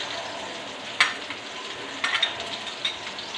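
Garlic and onion fry in a pan with a steady, close crackling sizzle, punctuated by a few sharper pops and stirring scrapes; no one speaks.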